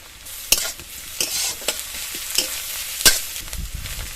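Onion and garlic paste sizzles steadily in a pan, broken by several sharp scraping stirs of a spoon against the metal, close and fairly loud.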